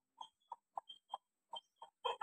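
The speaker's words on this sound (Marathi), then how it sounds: "कोंबडा बघा कुठे" A rooster in a Konkan village gives a run of short, clipped clucks in an uneven rhythm, about eight in a row, quiet and close, ending in a louder double call with no talk.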